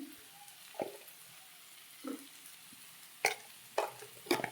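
Food being stir-fried with salt in a pan: intermittent scraping strokes of a spatula stand out over a soft background sizzle, arriving in short bursts that come closer together toward the end, with no speech.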